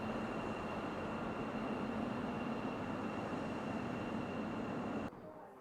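A steady, dense rumble of a train fills an old railway station in Lviv, Ukraine. It holds constant and then drops off abruptly near the end, leaving quieter ambience.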